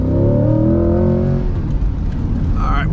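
A C8 Corvette at full throttle, its engine note rising steadily in a loud, sustained accelerating roar that fills the whole clip, with the pitch climbing before a brief lull and a whirring shift near the end.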